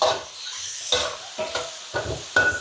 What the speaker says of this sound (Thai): ผัดหมูให้สุกก่อนค่ะ